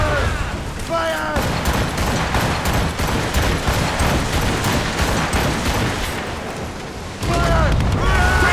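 Ship cannons firing in Assassin's Creed Rogue, a dense, continuous roar of booming blasts at sea with shouted voices at the start and end.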